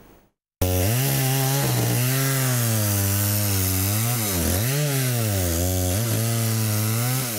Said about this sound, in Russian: с утра до позднего вечера стоит звук работающей бензопилы